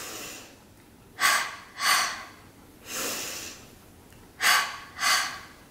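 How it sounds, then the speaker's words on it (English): A runner's breathing follows a set pattern, one inhale through the nose and two exhales through the mouth. The breaths are close and distinct in a repeating rhythm with brief pauses and no speech. "breathing in once through my nose and out twice through my mouth"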